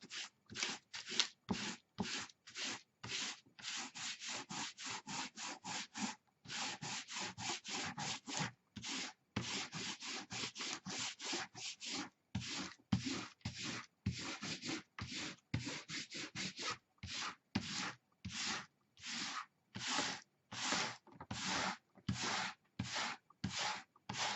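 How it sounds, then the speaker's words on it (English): Dry, clean fingers rub dried masking fluid off watercolour paper in a garden painting, making steady close scratchy strokes in a regular rhythm with brief pauses between them, heard alone. "I'm going to take off the masking fluid. Just rub it gently with dry, clean hands."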